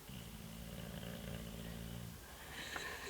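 A person snores in one long, rattling, low rumble that lasts about two seconds and then gives way to quieter, breathy noise, close and fairly faint, with no talking.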